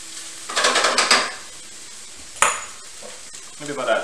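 Garlic stir-fried in a pan for Mexican street food, with metal utensils clanking and scraping against the pan in short bursts and a sharp ringing strike in the middle.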